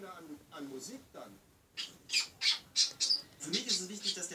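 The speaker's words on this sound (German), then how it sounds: "Kleiner Vogel?" A small bird lets out a run of sharp, bright squawks in quick succession, close by, with a person's voice talking softly early on.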